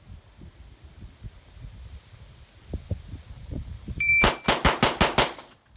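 Five rapid 9mm handgun shots fired in a quick, even string, sharp and loud against quiet outdoor background after a short beep, each crack followed by a brief decay.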